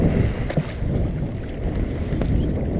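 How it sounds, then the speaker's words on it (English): Gusty wind buffeting the microphone aboard a sailboat on open water, a loud, rumbling low roar with a couple of sharper gusts, no talking. "Wind just made its way through the trees somehow."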